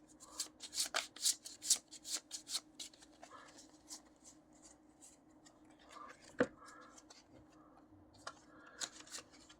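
Cards shuffled during a tabletop board game play: a run of quick, crisp riffling and snapping flicks, close and moderately loud, with a sharper slap near the middle and softer rustles after.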